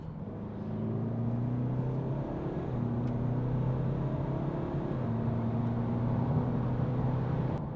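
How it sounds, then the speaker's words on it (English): BMW 420d diesel fitted with a GTD2056 turbo kit pulls hard on open road, a steady low engine drone with rising harmonic tones through gear changes, heard close from inside the car with no talking. "we've got a nice stretch of open road now, so I'm going to slow down a little bit and give it some"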